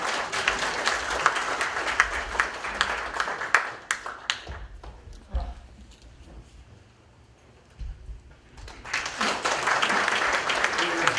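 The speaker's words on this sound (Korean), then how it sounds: "큰 박수로 우선 수석 부의장을 모시겠습니다." Audience applause welcoming a vice-chairman at an advisory council gathering, with clapping heard in the first few seconds and again after a lull, sounding moderately distant and mixed with some crowd noise.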